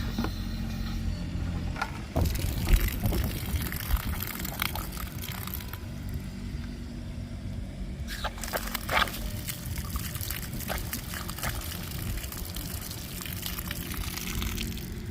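Water flowing from a line into a container at an RV site, a continuous splashing pour with occasional clunks and handling noises, no talk.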